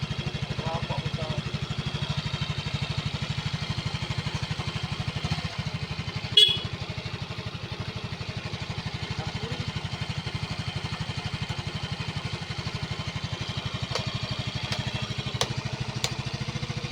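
A Yamaha Avantiz scooter engine idles while warming up in Kuala Lumpur, a steady close putter with a brief clatter midway, as people talk nearby.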